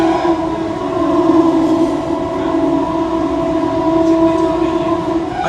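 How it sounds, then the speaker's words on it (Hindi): A Kerala Express train rumbles steadily past during an overtake, its sustained tonal hum and wheel noise loud and continuous throughout, with no voices. "हो गया केरला एक्सप्रेस का ओवर।"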